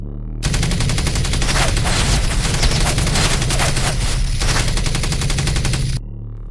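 Machine gun fire used as a sound effect in an animated show, a loud, dense rapid-fire burst of shots lasting several seconds with a brief dip midway before stopping abruptly.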